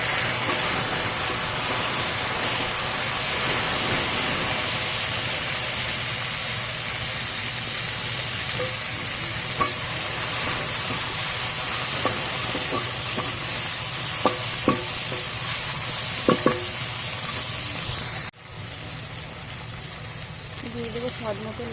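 Cumin, dried chillies, bay leaf, whole garam masala, chopped onion and tomato fry in oil in a pan, a loud continuous sizzle with occasional clicks of stirring, then a sudden drop in intensity near the end.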